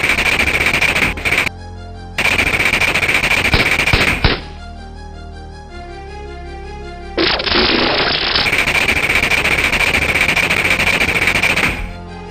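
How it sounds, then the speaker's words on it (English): Loud, close machine gun fire in long continuous bursts of rapid shots, breaking off briefly twice with a quieter gap in the middle before the firing starts again. "didn't think they'd have machine guns"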